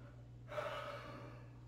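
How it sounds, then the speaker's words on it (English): A person gives a single quiet, breathy yawn close by, rising suddenly and then trailing off over about a second, over a low steady hum. "I apologize for the yawn."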